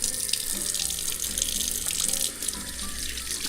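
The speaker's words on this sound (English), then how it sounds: "let's do a little quick rinse of the hands here" A kitchen tap runs steadily as hands are rinsed beneath it, the water splashing continuously and close.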